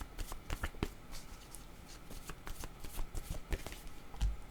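Tarot cards being shuffled close up during a reading: quiet, irregular papery riffles and taps over a soft background, with no clear talk.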